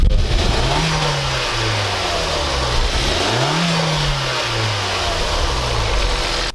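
A Hyundai Veloster Turbo engine is revved several times, its pitch rising and falling in repeated swells, close up and loud over constant broadband engine and wind noise.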